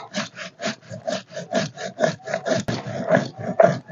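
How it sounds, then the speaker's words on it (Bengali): Cumin seeds are ground on a 50 to 60 year old stone shil-nora slab in a village kitchen, a close, loud rhythmic scraping with steady back-and-forth strokes roughly twice per second. "এবারে জিরে বেটে নেবো।"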